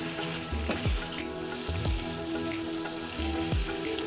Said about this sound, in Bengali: এখন গ্যাসের ফ্লেম বাড়িয়ে 4-5 মিনিট মাংস কষিয়ে যেতে হবে।